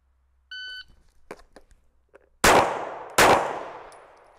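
Two handgun shots fired in a draw-and-fire shooting drill, loud sharp reports with ringing decay, spaced under a second apart after a shot-timer beep and faint handling clicks.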